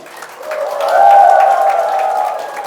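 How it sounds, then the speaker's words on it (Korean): A lecture audience at a farmers' cooperative housewives' college swells into applause mixed with sustained cheering voices, rising to a loud peak and then holding steady. "박수와 함성."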